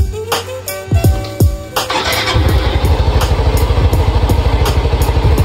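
A Yamaha Mio i 125 motorcycle engine with loose compression starts with a few clattering cranks, then settles into a steady, close idle with an even, rapid pulse.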